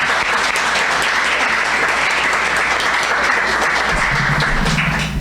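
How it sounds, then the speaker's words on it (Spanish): An audience at an education talk or livestreamed session breaks into sustained applause, loud dense clapping that continues evenly for over five seconds with no pause. "Para ellas les pido un aplauso"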